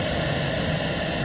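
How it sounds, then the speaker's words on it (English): An American Airlines jet taxiing toward the runway, its engines giving a steady, loud whine and rumble for a little over a second, with no talk over it. "As the plane taxied towards the runway, volunteers lined up in an honor guard."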